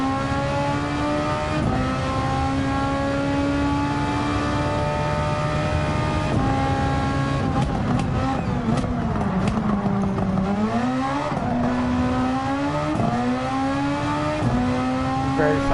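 A race car in Gran Turismo 7 on the Tokyo Expressway roars loudly and continuously, its engine pitch climbing through repeated gear changes with brief dips between upshifts, close and alone.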